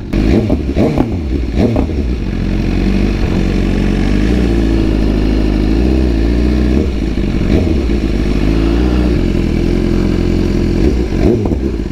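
Several motorcycle engines idle and rumble loudly nearby at a large bike event, with occasional revs and clattering swells over a steady low drone; no one speaks.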